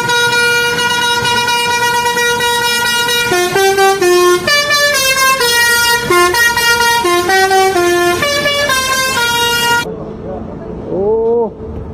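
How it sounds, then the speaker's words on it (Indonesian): A Sugeng Rahayu bus blares a loud, close musical horn, playing a rapid sequence of changing tones for about ten seconds before it fades into engine and road noise with a final sliding toot. "Wah, kali ini ada bus Sugeng Rahayu teman-teman."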